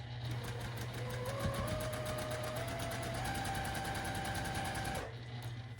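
Close, steady stitching of a sewing machine sewing a quilt block, a fast even rhythm of needle strokes running for about five seconds before it stops, with a soft motor hum underneath.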